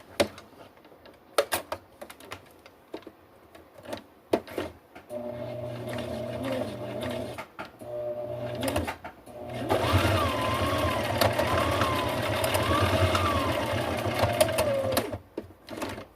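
A sewing machine stitches lines on a two-tone collar, with a short burst followed by a longer, louder continuous run of rapid whirring stitches and brief pauses between.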